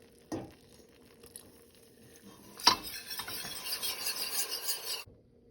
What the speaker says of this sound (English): I've been stirring this for 3 minutes and it's still not thick enough yet